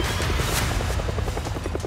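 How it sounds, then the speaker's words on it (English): Huey helicopter rotor blades whir in a steady, loud, close wop-wop pulse with engine roar beneath, continuous for the whole stretch. "It is the whir of chopper blades. You could hear a Huey from a mile away."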